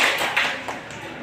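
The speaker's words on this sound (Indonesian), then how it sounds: "Terima kasih. Tepuk tangan." Students in a classroom clap in a short, scattered burst that fades within about a second.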